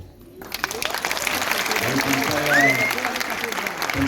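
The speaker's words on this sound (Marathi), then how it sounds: "ती टाळी जोरदार वाजायला लागली" An audience at a Marathi film event applauds, a full, sustained clapping that swells and carries on steadily for several seconds, with faint crowd murmur beneath.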